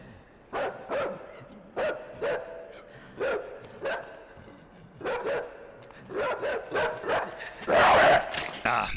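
A dog in the video game Inside barks repeatedly in sharp, evenly spaced bursts, about a dozen loud barks in a steady rhythm, ending with a louder, noisier burst.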